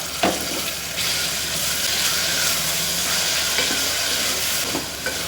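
A medium-sized tomato goes into masala dalia upma frying in a pressure cooker, giving a continuous loud sizzle and hiss with a few sharp clinks of a spoon at the start and end.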